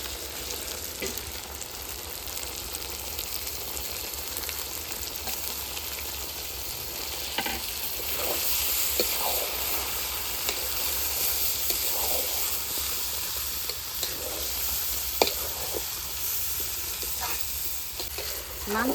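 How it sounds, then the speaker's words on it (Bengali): Rice and lentils being stirred into chicken frying in a pot, giving a steady loud sizzle and hiss throughout, with occasional scraping stir strokes and a few faint clicks. "সঙ্গে ভালো করে চাল আর ডাল মিশিয়ে নিয়ে একটু নাড়াচাড়া দিয়ে"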